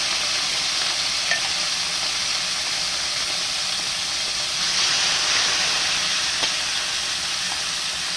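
Roast chicken stir-fried in a pan for a chicken broccoli dish, a continuous close sizzle and hiss with a few faint clinks of a utensil against the pan.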